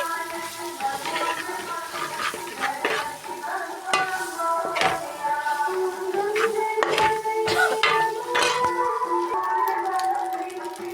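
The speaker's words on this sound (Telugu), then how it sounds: "ఇప్పుడు ఈ పాస్తానైతే అందులో వేస్తున్నా" Cooked pasta tipped into a hot pan and stirred, with steady sizzling under repeated scraping and clattering utensil strokes, close and fairly loud throughout, no talking.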